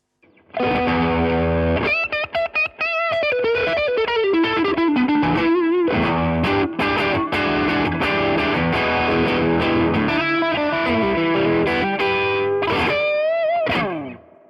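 Electric guitar through a Rajani VOD-50 amp's overdrive channel, gain at halfway, plays chords and single-note runs with moderate overdrive, sustained and close up, ringing out at the end.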